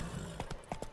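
Roach, a horse in The Witcher 3, trots with a run of hollow clip-clop hoofbeats, close and fairly soft, over a low steady background hum.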